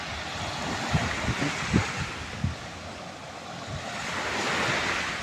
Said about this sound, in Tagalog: Sobrang lakas ng alon dito yun mga kalods.